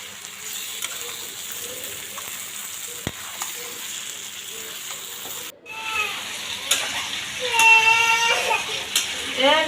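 Meat dropped into hot oil in a pan with onions: a quiet sizzle suddenly bursts into a louder, fuller hiss partway through, with high-pitched vocal sounds rising over it near the end.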